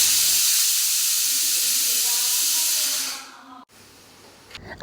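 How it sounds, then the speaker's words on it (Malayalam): A pressure cooker on the stove vents steam in a strong, continuous hiss for about three seconds before cutting off abruptly, leaving quiet room noise. "കുക്കർ വെച്ചിട്ട് 2 വിസിൽ കേൾപ്പിക്കുക"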